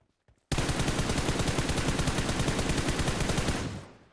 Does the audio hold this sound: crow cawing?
no